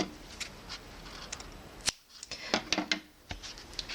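Scissors snip through crochet yarn on a small handmade panda amigurumi, giving a few close, quiet, sharp clicks and snips in a quiet room.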